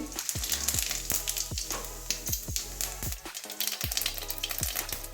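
Whole cumin seeds crackle and sizzle in hot oil for a Bengali prawn and tomato dish, a steady close frying hiss dotted with sharp little pops and spits throughout.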